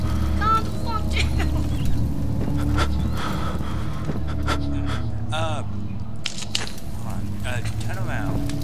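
Heavy, rhythmic panting breaths in the video game Amnesia, repeated loud inhales and exhales close up, with scattered creaks and other game noises and people talking over them.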